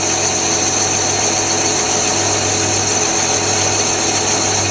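A lathe machines an 89 mm exhaust pipe for a GAZ 24 V8 exhaust system, producing a loud, continuous whirring hum with a steady cutting hiss throughout.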